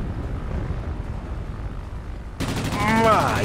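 Machine gun fire from a tier 2 British fighter plane in World of Warplanes, starting as a sudden loud burst of rapid shots over a steady engine drone and continuing to the end.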